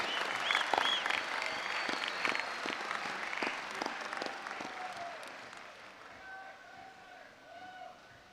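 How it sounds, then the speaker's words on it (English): Audience applause at a West Point graduation ceremony, a broad crowd clapping with dense sharp claps that gradually thin and fade toward the end, with faint voices underneath. "how about a round of applause for the class of 1976"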